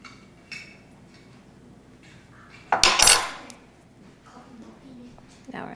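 A butter knife works hair lines into a Smurfette cake pop. A sharp metallic clatter and scrape rise briefly mid-clip over quiet background noise, with faint voice sounds.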